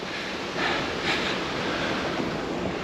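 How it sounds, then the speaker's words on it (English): Water from a flooded weir rushes in a steady, broad outdoor roar with wind buffeting the microphone, loud and continuous with slight surges throughout. "Keep away from weirs when they're flooded like that."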